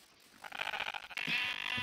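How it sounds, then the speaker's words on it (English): Sheep bleating in Minecraft, a short nasal bleat rising out of quiet game ambience, followed by a second, longer bleat, both at moderate loudness with no talk over them. "Oh, sheep."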